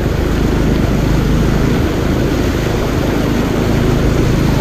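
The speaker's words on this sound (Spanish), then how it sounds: "Está muy hondo, amigos, se me va a apagar la moto." A Pulsar NS200 motorcycle engine runs steadily while pushing through deep floodwater, a loud continuous drone mixed with water rush throughout.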